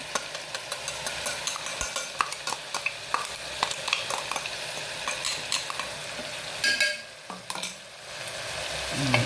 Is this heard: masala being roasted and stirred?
yes